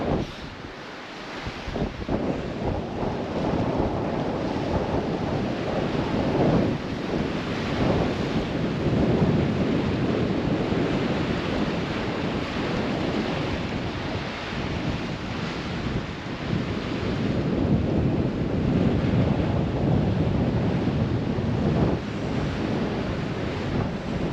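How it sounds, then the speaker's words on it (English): Wind roars steadily across the microphone at a seaside wharf beside an aquarium and restaurant on a cold winter day, a loud continuous rushing with gusty swells and surf-like wash, with no voices. "the wind's kind of picked up"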